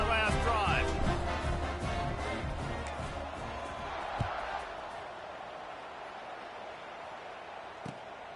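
Stadium crowd roaring after a touchdown in the College Football 26 video game, a broad, steady wash of cheering that fades gradually, with talk over the opening seconds and a couple of faint thuds.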